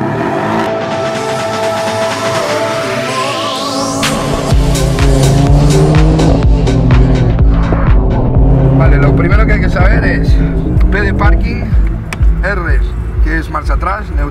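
A Porsche 718 Boxster starting up: a rising whine, then the engine catches around four seconds in and keeps running with a loud, steady, close rumble until the end, with some talk over it.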